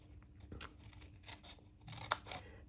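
Scissors snip tabs in a lighter cardstock for a Halloween papercraft, with a few sharp, close cuts and crisp paper rustles in quiet surroundings.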